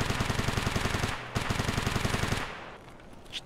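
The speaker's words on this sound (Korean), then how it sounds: "총소리 위치 정확히 찾았어?" Automatic gunfire in the video game Escape From Tarkov, two rapid bursts of rhythmic shots, the first about a second long and the second slightly longer after a short pause, fairly loud, then quiet.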